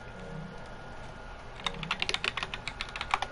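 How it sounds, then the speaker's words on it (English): Fast typing on a loud computer keyboard, a burst of sharp, close clacks starting partway through after a quiet hum, with no voices. "Sorry for the loud keyboard."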